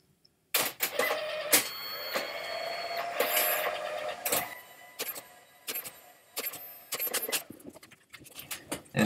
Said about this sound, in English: I think you can hear the printer.